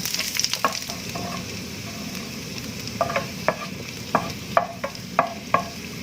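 Garlic sizzles in a frying pan under a soft hiss, punctuated by a series of crisp spatula taps and scrapes against the metal, growing more frequent toward the end.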